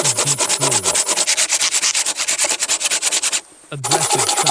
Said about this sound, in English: Sawing a mossy log. The blade cuts a deep groove.